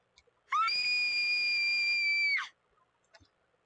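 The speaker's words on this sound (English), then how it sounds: "You have to scream in my fucking ears, Kagome?" Kagome, a female character in the Inuyasha Secret of the Cursed Mask video game, lets out one sustained, piercing high-pitched scream lasting about two seconds. It rises sharply, holds steady and cuts off, loud and close.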